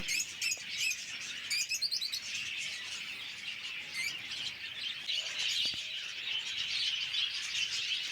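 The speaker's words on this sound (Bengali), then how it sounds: "পেছনে আপনার সবই ফিঞ্চ পাখির সেপারেট কেজ কলোনি করা রয়েছে" Finches in separate cages of a colony on a West Bengal bird farm chirp and tweet steadily, with quick high bursts of twittering layered over a constant busy chatter and no voices.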